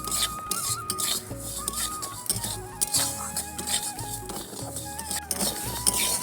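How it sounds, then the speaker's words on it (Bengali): Moong dal being dry-fried and stirred in a kadai for khichuri, with repeated utensil scrapes and clinks over a steady busy background, plus some musical tones throughout. "তো প্রথমে আমি ডালটা ভেজে নিচ্ছি।"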